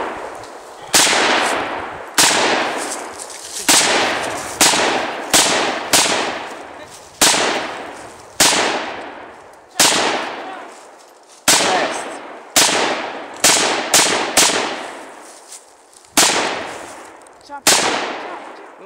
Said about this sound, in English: A little lower, you're shooting high.